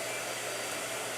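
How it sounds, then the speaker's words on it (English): A blow dryer runs in a steady, loud, broadband whoosh that fills the whole moment without a break, and no one talks. "All right, blow dryer."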